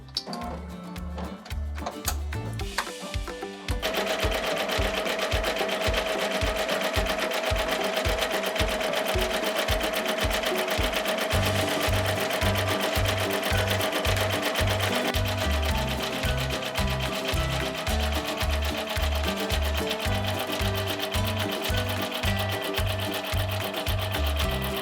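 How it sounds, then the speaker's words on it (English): An embroidery sewing machine with a magnetic hoop runs a blanket stitch around a quilt appliqué: a steady, rapid mechanical whir with rhythmic needle ticking that starts after a few seconds and keeps going without a break, loud and close. "I'm going to go back to the machine, and it's going to do a blanket stitch around it and then the eyeball"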